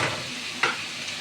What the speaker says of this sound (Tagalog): Gisa-gisa muna